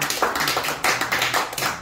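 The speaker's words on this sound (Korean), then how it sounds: "홍순자산에 박수 한번 쳐주셔가지고" A few people clap for Hong Sun-ja, the group's general secretary, at a gathering, with a short burst of uneven, moderately close handclaps.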